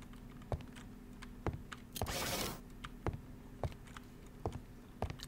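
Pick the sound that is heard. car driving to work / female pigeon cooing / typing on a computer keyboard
typing on a computer keyboard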